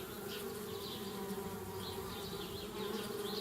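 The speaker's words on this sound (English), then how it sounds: "Darn bees, trying to move into our tree house." Bees buzz steadily around a tree house in the adventure game Anna's Quest. The hum is continuous and moderately loud, with a few wavering higher swells, and no one speaks.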